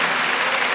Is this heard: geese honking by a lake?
no